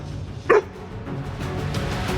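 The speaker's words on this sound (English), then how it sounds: "The dog barked to attract attention" A dog gives a single short, sharp bark early on, followed by steady background noise with no further barking.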